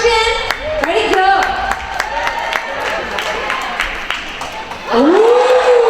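A gym crowd at a boys' varsity basketball game claps and cheers for a participant named Jen, steady rhythmic clapping mixed with shouts and voices, swelling louder near the end with a rising cheer.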